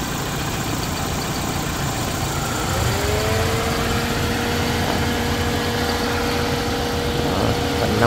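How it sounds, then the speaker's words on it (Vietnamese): A cheap used five-seat car with its hood open, engine running at idle: a steady, close mechanical hum with a faint rising whine partway through, and no talk over it. "hiện tại máy đang bốc, đang nổ máy nhé."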